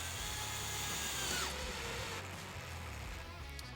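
A power drill drives screws into plywood for a cornhole board, the motor whining close and loud, then dropping in pitch as a screw tightens and the drill winds down.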